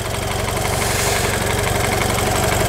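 BMW Z4 engine idling steadily, a loud, close, even rumble with a regular pulsing beat and no voices.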